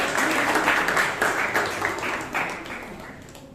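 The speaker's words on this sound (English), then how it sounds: "Let's give another round of applause" Applause from a Toastmasters club meeting audience in Bangalore, a steady dense wash of clapping hands that holds for several seconds and slowly tapers off.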